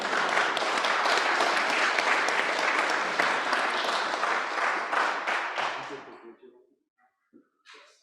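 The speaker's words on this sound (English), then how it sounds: "Now you can applaud." A large audience at a New York State Bar Association House of Delegates meeting applauds loudly and steadily for several seconds, then the clapping thins out and fades to a few scattered claps.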